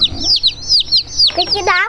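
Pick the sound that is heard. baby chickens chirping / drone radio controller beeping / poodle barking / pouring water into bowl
baby chickens chirping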